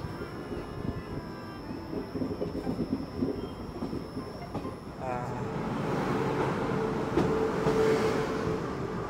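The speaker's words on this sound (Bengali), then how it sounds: "ট্রেন মালদা ঢুকছে।" Silchar Special fare special train rolling into Malda station at night, a steady low rumble of wheels and carriages rising in the second half with a faint metallic squeal, close by with scattered voices.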